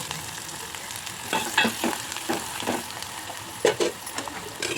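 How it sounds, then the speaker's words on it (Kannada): Sliced onion and curry leaves sautéing in oil with mustard seeds and turmeric, a soft steady sizzle broken by occasional stirring scrapes of a spoon against the pan. "ಆಮೇಲೆ ಈರುಳ್ಳಿ ಕರಿಬೇವು ಇದನ್ನು ಹಾಕಿ ಸ್ವಲ್ಪ ಬಾಡಿಸ್ಕೋಬೇಕು"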